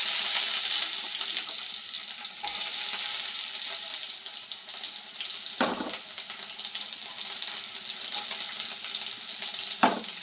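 Chopped onion frying with popped mustard seeds and curry leaves in hot oil for an eggplant gojju, a steady, moderately quiet hiss and sizzle with a few soft stirring knocks.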